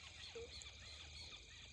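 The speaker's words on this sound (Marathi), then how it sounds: "मी जंगलात थांबलोय, बाकी पक्ष्यांचा आवाज आहे" Birds call in a jungle, a few brief, faint chirps and whistles drifting over a quiet, steady low background hum.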